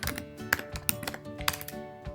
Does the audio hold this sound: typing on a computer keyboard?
yes